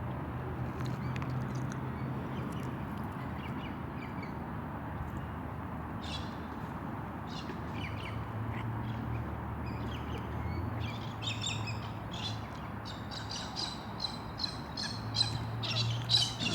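Australian birds in Port Augusta, South Australia, chirp and squawk while eating cream cheese, scattered calls growing busier and louder toward the end over a low steady background.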